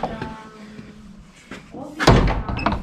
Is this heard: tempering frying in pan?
no